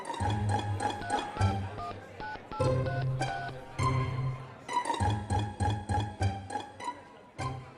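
Landline telephone being dialed, a series of distinct touch-tone beeps in separate bursts, some long and some short, with a quick run of rapid tones near the end and no voices.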